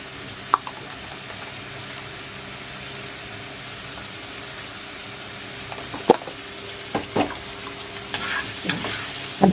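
Chicken liver and gizzards with pepper and salt sauté in a pan with a steady low sizzle, then several sharper scrapes and clatters of a utensil stirring near the end.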